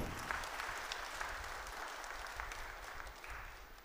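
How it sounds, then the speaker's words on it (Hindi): Sustained applause from guests at a Christian church wedding, an even wash of many hands clapping at a moderate, somewhat distant level for the whole few seconds, with no talk over it. "हम सभी एक जोरदार एक दूसरे के लिए एक बार ताली बजा देंगे"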